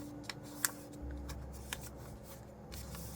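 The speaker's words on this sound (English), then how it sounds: "And now we're going to fold the bottom point up to the top point." Paper being folded for an origami boat, with quiet crinkles and a few sharp crisp creases close by in an otherwise hushed room.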